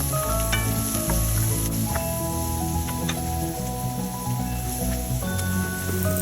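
Chopped onion sizzles steadily in butter in a hot pan, a continuous loud crackling fry with a few brief clinks and stirring sounds layered over it, no voices.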